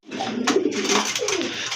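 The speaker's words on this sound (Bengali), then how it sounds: "প্রথমে আপনারা দেখতে পাচ্ছেন এক জোড়া কবুতর। এটা হচ্ছে সিলভার কালারের ভিতরে বিগ সাইজের লাহোরি কবুতর" A pair of big silver Lahori pigeons coo close by in short, throaty rising and falling phrases that run almost continuously.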